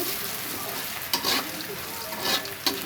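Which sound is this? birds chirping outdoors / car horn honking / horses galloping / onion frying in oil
onion frying in oil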